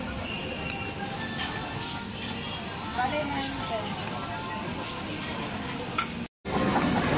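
Native black pork slices sizzle steadily on a tabletop grill at a restaurant birthday meal, with a constant frying hiss, occasional utensil clinks and background chatter of diners.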